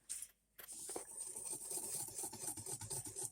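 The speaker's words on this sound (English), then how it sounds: "I like to whisk these together" A whisk rasps quietly and steadily through dry cookie ingredients, flour and salt, in a bowl, a soft continuous scraping that starts after a brief pause.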